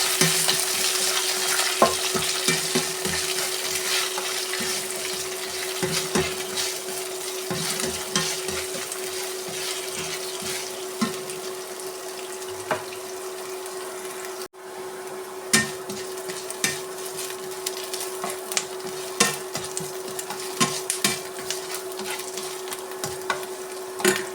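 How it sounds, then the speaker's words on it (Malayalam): Garlic, ginger, green chili and onion sauté in a pan for a spicy mackerel curry, giving a steady, loud sizzle with occasional scraping stirs and a faint steady hum underneath. No one talks. "വെളുത്തുള്ളി ഇഞ്ചി പച്ചമുളക് സവാള നന്നായി വഴച്ചെടുക്കാം"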